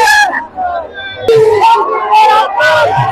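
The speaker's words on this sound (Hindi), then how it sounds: "बहुत भीड़ है।" A large, noisy crowd packed into the ISKCON temple in Patna on Janmashtami, with raised voices and shouts close by in bursts, and a nearby person speaking over the din.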